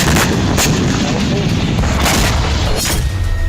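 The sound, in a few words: mortar fire by Hamas fighters against Israeli army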